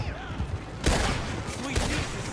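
Gunfire in the online western game Red Dead Online: a loud burst of rapid shots cracks in mid-clip, with a second volley following shortly after over a dense game soundscape.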